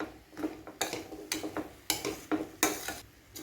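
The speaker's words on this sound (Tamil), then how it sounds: "இதையும் சேர்த்து ஒரு நல்ல மிக்ஸ் கொடுத்துக்கலாம்." Boiled jackfruit seeds being stirred into a kurma in a pan, with a spoon scraping and clinking against the pan in quick, regular strokes, fairly quiet and close.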